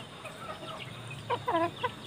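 A bantam chicken clucks softly a few times, short bursts growing louder toward the end over a quiet background.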